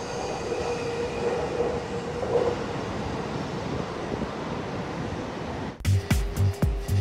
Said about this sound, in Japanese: こちらの青いラインの列車は常磐線の E531 系。